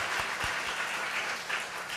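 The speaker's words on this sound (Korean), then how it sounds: "박수" Children at a church Sunday school clap together after a child answers a question, a steady patter of small-hand applause filling the moment with no talking.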